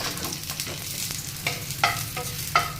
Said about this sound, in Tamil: கொஞ்சமாக எண்ணெய் சேர்த்துக்கிறாங்க பூண்டு வறுத்துக்கு மட்டும்